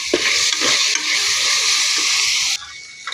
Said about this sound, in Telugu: పావు స్పూన్ పసుపు వేసుకొని కలుపుకోవాలి.